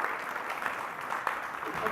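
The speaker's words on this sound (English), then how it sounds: "Can everybody please give a big round of applause for Greg Shep?" An indoor audience applauds steadily for a sponsor, a dense wash of hand claps at moderate distance with no talk over it.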